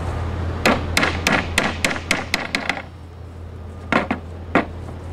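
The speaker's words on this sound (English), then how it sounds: "Take one of your T-nuts, put it right in that hole there," Sharp, hollow knocks ring out as a T-nut is pounded into a hole in a sketchboard leg during kit assembly, about eight quick strikes in a steady run, then a pause and three more spaced hits.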